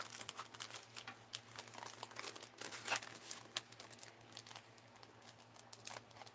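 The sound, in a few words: tape being peeled off a thrifted item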